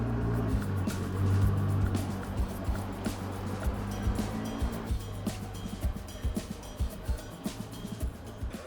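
A Ford GT hypercar pulls away after warming up, its engine note rising then fading as it drives off, followed by a sequence of irregular thumps and clatter, with no talk.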